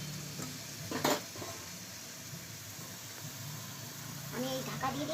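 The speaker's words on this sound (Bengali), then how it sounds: "আলুগুলো দিয়ে দিচ্ছি মশলাতে, এরপরে আলুর দমটা আমি কষা কষা করবো।" Potatoes sautéing in a spice masala for aloo dum in a pan, a steady sizzle with a loud scrape of a stirring spoon against metal near the start and fainter stirring later, with a voice talking in the background.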